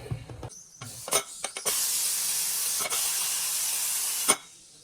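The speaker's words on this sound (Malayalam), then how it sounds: "അങ്ങനെ നമ്മളെ ബിരിയാണി, കുക്കർ ബിരിയാണി ഒരു പിസിലയക്കുന്നത്." Pressure cooker holding biryani releases a single long steam whistle, a loud continuous hiss lasting about three seconds after a few clattering knocks, then cutting off.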